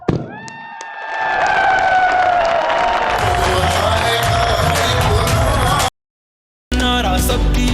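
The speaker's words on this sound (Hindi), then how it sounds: "कोहाटियों जरा इमरान खान का, पाकिस्तान की जान, पाकिस्तान की आन का एक दफा फिर कुल के तालियों से इस्तेकबाल कर" A large outdoor political rally crowd in Kohat, Pakistan claps and cheers loudly in welcome, a dense sustained roar that builds after a brief opening, cuts out for a moment and then resumes.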